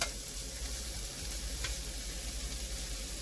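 Fatty bacon sizzles and crackles steadily in its own grease, a constant bright hiss of frying fat at close range with no talk over it.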